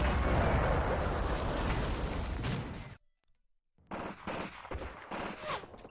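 Machine gun fire in the World War II tactics video game Graviteam Tactics: sustained loud automatic fire for three seconds, a short silence, then further bursts of shots, with no talk.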